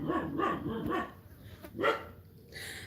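A few dog barks in quick succession, moderately close, followed by a pause and another single bark.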